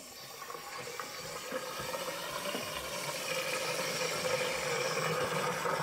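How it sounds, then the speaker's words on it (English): Tap water runs steadily into an apartment drain, a continuous splashing rush that builds slightly in loudness, with no one talking. "So we'll run some water."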